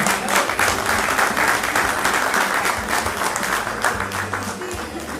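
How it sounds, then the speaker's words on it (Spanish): A crowd at a rock anniversary concert gives sustained, dense applause in recognition of a musician, loud and steady throughout, gradually easing slightly toward the end, with no voices clearly on top. "Fuerte el aplauso, ahí el reconocimiento también"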